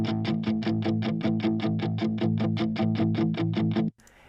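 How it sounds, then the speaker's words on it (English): Tight, chugging palm-muted electric guitars play a fast, steady rhythm of short distorted hits, thick and layered, stopping abruptly at the end. "And then we have some palm muted guitars"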